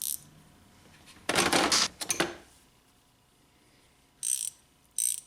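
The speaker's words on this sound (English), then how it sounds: "I can definitely feel the gears inside the gear wrench better" A GearWrench ratcheting wrench gives a few short bursts of close metallic clicking from its internal gears, separated by quiet pauses.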